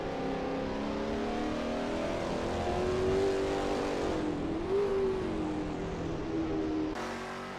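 Engine of a Lola T70 MkII Spyder in a racing video game at Spa drones loud and close, pitch sagging and climbing through a corner before abruptly cutting off near the end, no voices.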